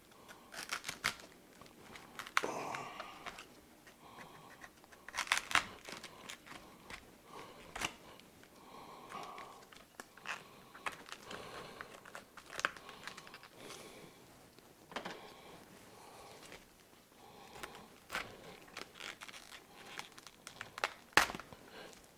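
A knife cuts the core out of a whole cabbage: scattered crisp crunches, scrapes and snaps of leaves close up, irregular and fairly quiet throughout with no talking.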